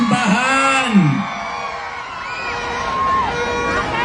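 A large crowd at a Pasig election campaign rally shouts, whoops and cheers continuously, a loud swelling roar of many voices with scattered yells rising above it.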